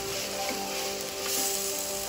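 Chopped tomato sautés in hot oil in a pan for wheat rava mutton biryani, a steady, close sizzle with faint crackles that runs evenly for about two seconds without talk.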